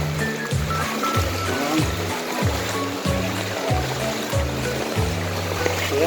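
Floodwater in a city street during a typhoon keeps up a steady rushing, splashing wash with rhythmic low sloshing surges, close and continuous, with no talking.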